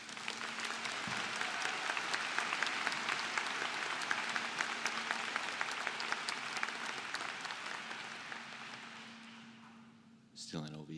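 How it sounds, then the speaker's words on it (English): A large audience at a university summer convocation applauds graduates with sustained, dense clapping that fills about ten seconds before fading out near the end. "Round of applause to all of our graduates in OVC."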